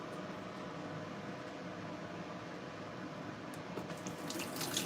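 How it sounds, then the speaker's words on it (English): Kitchen tap water runs in a steady, fairly loud stream while vegetables are washed for sweet and sour pork, continuous throughout with a slight swell near the end and no talking. "Wash your vegetables always, because you never know about COVID."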